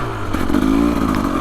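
A 2025 KTM 300 XCW Champion Edition dirt bike fitted with a quick-turn throttle cam revs on a trail, a loud, close engine note that climbs briefly and holds steady with a rough clatter.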